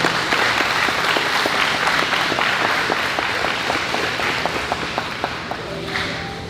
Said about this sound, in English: that in itself is worth another round of applause for each young man